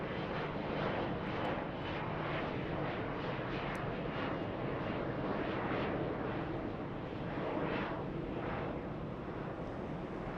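Jet engines of an airliner on a taxiway at LAX after a long flight from Istanbul produce a faint, steady roar with gentle pulsing swells, heard from a distance with no voices.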